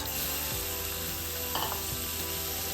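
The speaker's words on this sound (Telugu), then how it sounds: "సో చికెన్ యాడ్ చేసేస్తున్నాను అనమాట" Chicken pieces going into a hot pan for a semi-gravy chicken fry, giving a steady low sizzle with faint stirring scrapes and no voices.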